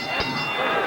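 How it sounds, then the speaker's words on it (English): A boxing ring bell rings out to end the final round of the Clarence 'Bones' Adams versus Kevin Kelley fight, a brief bright tone over steady crowd noise. "mercifully, the bell brings an end to it"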